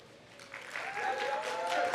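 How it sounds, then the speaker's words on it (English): Audience at a tech talk on AI agents breaks into applause after the closing thanks, clapping building from faint to full with a few whoops and voices rising over it. "Clap it up for Patricia."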